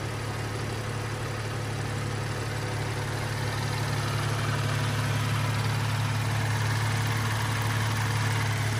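A BMW 435i M Sport automatic with a straight-six twin-turbo engine idles steadily close by, a smooth, constant low hum with an even mechanical whir and no change in revs.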